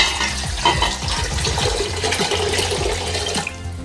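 Tap water running and splashing into the inner pot of an Instant Pot Duo Plus 8 quart pressure cooker, a steady close rush with some clinking, continuous throughout with no talking.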